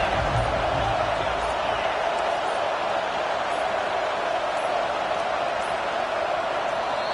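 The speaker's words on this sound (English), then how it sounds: "Decibels rising as the crowd gets behind this defense on 3rd down" Stadium crowd at a college football game between the Vols and Trojans, a dense, steady roar that swells on third down and stays loud and unbroken throughout.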